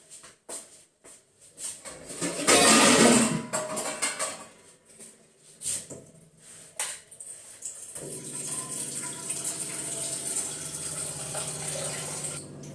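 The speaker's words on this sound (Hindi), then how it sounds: "तो बस देखिए यहाँ पे चाय का पानी ले लिया है" Tap water runs into a pot for tea in a home kitchen, a close splashing stream that swells loudly early on, pauses with small clatters, then settles into a steady filling hiss.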